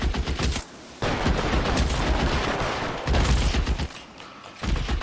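Rapid gunfire from a shootout in the LA Noire video game, loud bursts of shots in a dense volley that briefly pauses and resumes, with no talking over it.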